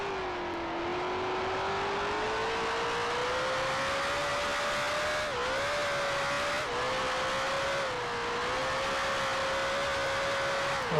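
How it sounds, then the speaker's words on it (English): A 1965 Formula 1 race car in the Grand Prix Legends game at Lakeside Park runs at high revs, with the engine droning and dipping as the tyres lose grip and the car spins out. The sound is loud and continuous, with no talk. "too much oversteer on tires, car spinning out"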